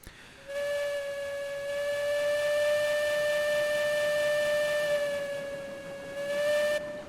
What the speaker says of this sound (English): Love that whistle. Love that whistle. It's awesome.